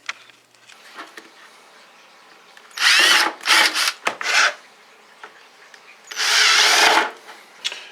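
Power drill driving screws through a worm bin screen into a wooden frame, a few loud whirring bursts of one to two seconds each separated by quieter handling.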